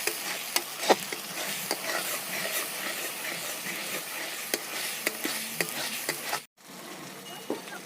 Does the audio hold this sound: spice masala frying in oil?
yes